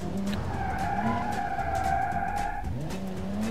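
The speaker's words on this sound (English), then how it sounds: "My car is drifting to the right on its own." In BeamNG.drive, a car drifts with a broken axle, its tires letting out sustained squealing skids with wavering pitch over a steady engine drone, with a fresh skid starting near the end.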